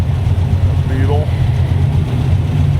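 A Volkswagen Beetle engine rumbles at an early morning car meet, a steady, fairly loud low drone that holds through the whole stretch with no clear change in pace.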